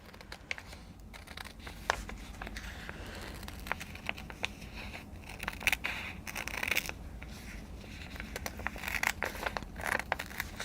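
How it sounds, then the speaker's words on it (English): Scissors snipping through paper and fabric at a sewing table, producing a long run of small close crisp cuts and rustling crinkles with occasional sharper clicks of the blades, with no talking. "Now it can be hard to cut with this kind of scissors."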